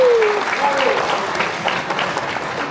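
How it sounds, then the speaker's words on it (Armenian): Guests applauding at a wedding at Garni-Geghard in Armenia, a loud, sustained wash of clapping from a crowd, with a voice speaking briefly over it at the start. "բարձր ծափերով ողջունենք"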